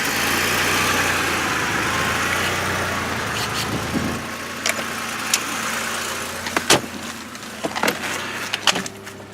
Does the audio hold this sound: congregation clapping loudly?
no